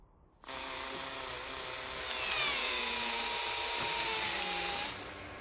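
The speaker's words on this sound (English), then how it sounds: "The drill on the arm allows us to grab some of that rock" A steady high-pitched mechanical whine of a NASA Mars rover's robotic arm drill runs continuously for several seconds, rising slightly in pitch partway through, then cuts off.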